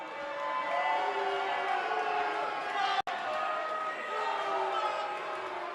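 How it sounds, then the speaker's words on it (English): Crowd at a wrestling event cheering and roaring in a steady, loud wash of voices with a continuous, dense texture throughout, broken by one abrupt brief dropout midway. "The crowd seems into it."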